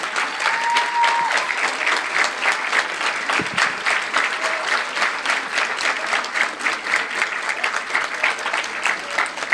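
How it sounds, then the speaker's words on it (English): An audience gives a sustained round of applause for debate contestants, dense, even clapping that fills the whole stretch with no speech over it. "please stand up and acknowledge our contestants with one more round of applause"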